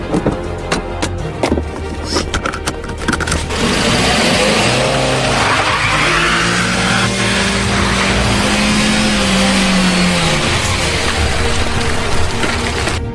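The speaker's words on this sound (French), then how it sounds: "Pachka, accélère, dépêche-toi, Pachka." A car accelerates hard and skids: a loud revving engine rises and holds while tires squeal and screech for several seconds, close and continuous, after some earlier clattering noises.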